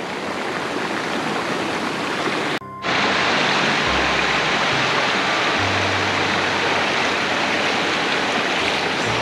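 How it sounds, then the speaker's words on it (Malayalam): Kadappara waterfall and its river in the Chimmini Dam wildlife sanctuary near Thrissur, running low after little rain, make a loud, close, steady rushing roar. The roar cuts out for a split second early on and then carries on without pause. "നമ്മളിതാ വാട്ടർഫാൾസിൻ്റെ അടുത്തെത്തി"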